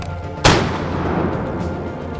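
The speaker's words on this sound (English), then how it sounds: "He takes a shot at one of the later boar in the group" A single sharp, loud hunting rifle shot fired at a wild boar during a hunt, a sudden crack followed by a long rolling echo that fades slowly across open country.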